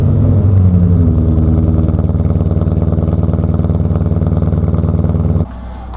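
A 2005–2009 Ford Mustang with an aftermarket exhaust idles right after a cold start, a loud, steady, rumbling drone with a fast rhythmic pulse close to the microphone, then cuts abruptly quieter near the end.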